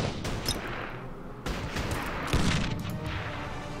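Gunfire in the Order of Battle Panzerkrieg war strategy game at Voronezh, a fast burst of overlapping shots and rattling bangs with booming hits, loud and fairly close.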